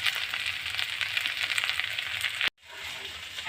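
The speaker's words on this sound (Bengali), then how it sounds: "এখানে পেঁয়াজ, রসুন, তেজপাতা সম্বার দিয়ে ছোলা আর আলুগুলো মানে একটু ভেজে নিচ্ছি।" Chickpeas and potatoes fry with onion, garlic and bay leaf in a pan, a loud continuous sizzle that cuts out abruptly partway, then returns quieter.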